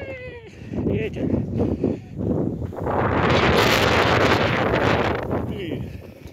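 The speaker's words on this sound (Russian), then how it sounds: "Ветер ледяной." Gusty, icy wind with blowing snow roars across the microphone in a village yard, rising into a strong sustained blast, with animal bleats and sounds of movement mixed in.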